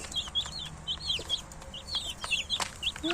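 Hens cluck repeatedly among small chicks pecking at seeds, with short chirps and clucks scattered throughout at close range over a low background hum.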